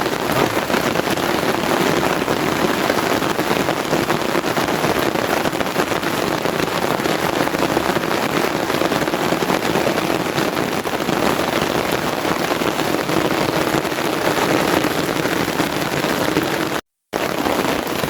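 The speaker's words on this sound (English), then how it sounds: "rain is actually blowing through the tarp" Torrential rain and wind pelting a camping tarp during a wild camping trip, a dense, loud, unbroken hiss and patter close by, with one brief dropout near the end.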